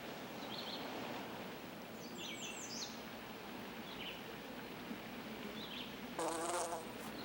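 Insects buzz around sap-oozing holes drilled by a yellow-bellied sapsucker in an alder tree, a faint steady hum in a quiet outdoor setting with a few brief bird chirps and a short louder burst near the end.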